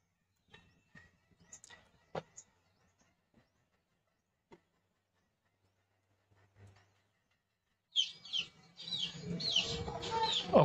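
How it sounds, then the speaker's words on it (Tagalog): Chickens and chicks in a rural village yard, a loud burst of clucking and peeping that begins abruptly near the end after mostly quiet scattered noises. "ay hindi talaga may iwasan na mayroong mga manok, mayroong mga sisiw,"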